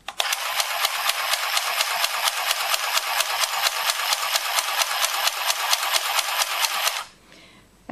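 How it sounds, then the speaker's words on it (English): A Singer Handy Stitch handheld sewing machine runs with a rapid, even mechanical clatter of stitches, loud and close, for about seven seconds before stopping abruptly. "I'm going to press the power button and start sewing."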